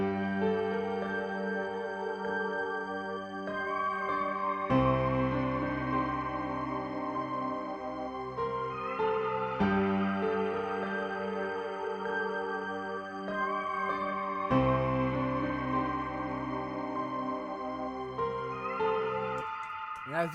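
Ambient piano loop for a type beat, drenched in Valhalla reverb and delay, with sustained chords cycling in a repeating pattern about every five seconds. Soft, steady and wordless.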